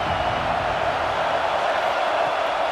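A stadium crowd roars steadily in a college football video game, Notre Dame hosting Minnesota at South Bend, a dense, unbroken wash of fan noise that holds at an even level throughout.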